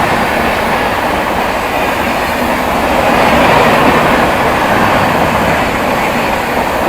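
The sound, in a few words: trains crossing, North East Express passing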